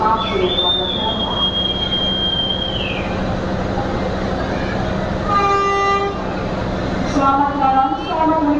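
A passenger train on an Indonesian railway on the Surabaya route, with a steady rumble under a long high tonal squeal and brief horn-like tones, alongside background station announcements.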